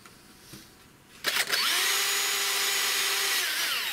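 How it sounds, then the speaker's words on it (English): A battery drill with hammer mode off bores a hole through FR4 G10 laminate sheet, starting after a quiet pause with a sharp bite, then a loud, steady, high whine as the bit cuts through. "I'm just going to try and do a hole through this"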